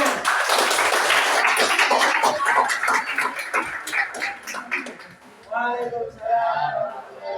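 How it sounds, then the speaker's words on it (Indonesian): Audience clapping at a student preaching and sermon practice session in Makassar, dense broadband applause for about five seconds that thins out, then voices chatter and call out near the end. "Bagus, tepuk tangan"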